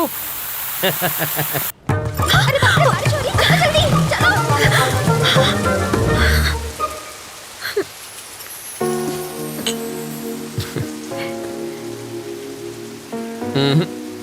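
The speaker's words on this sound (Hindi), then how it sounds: "बरसात शुरू।" Steady rain pours and patters throughout a dubbed South Indian film scene, loud and close, mixed with music and voices that rise and fall over the downpour.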